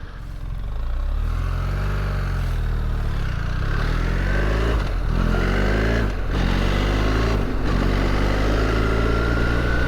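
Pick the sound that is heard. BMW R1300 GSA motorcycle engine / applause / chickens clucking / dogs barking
BMW R1300 GSA motorcycle engine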